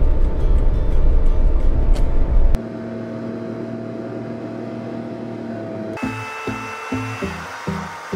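A car travels along a road at a slow, steady pace, giving a continuous low engine and road rumble that shifts character partway through and then picks up rhythmic thumps and bumps near the end, with no talking.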